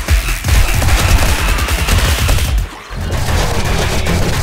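Loud, sustained automatic gunfire and booming blasts rattle almost without pause during a 7 Days to Die fight against a titan on Darkness Falls insane difficulty, dipping briefly before the barrage resumes.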